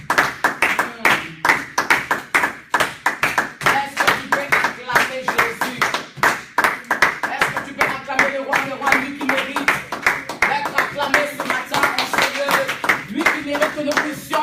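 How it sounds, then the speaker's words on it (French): Church congregation clapping in praise of the Lord, a steady run of sharp, close handclaps continuing throughout, with voices and singing mixed underneath. "Est-ce que tu peux acclamer le Seigneur?"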